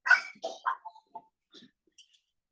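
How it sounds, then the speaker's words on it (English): Dogs nearby burst out with a few sharp yips and a short bark, then trail off into faint, scattered whimpers and quiet whines. "the dogs are being crazy"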